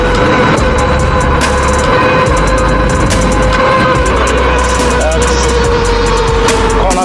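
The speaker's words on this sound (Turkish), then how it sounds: "Lastiğin sesi, motorun çıkardığı ses yüksek hızlarda." A Sherman-S V2 electric unicycle at high speed gives off a constant motor whine and tyre rumble, loud and close, mixed with rushing wind and the passing hum of traffic.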